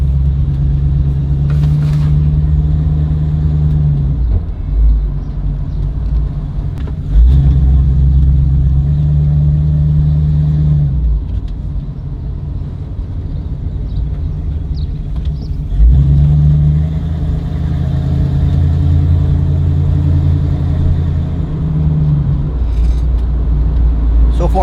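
A 1965 Fastback car engine idling steadily and revving during a test drive, its low rumble holding close and loud throughout with a few swells as the revs rise and fall.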